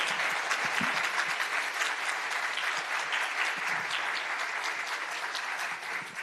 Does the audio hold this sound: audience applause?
yes